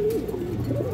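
A female pigeon gives a short, soft, rolling coo close by, heard alone against faint room noise.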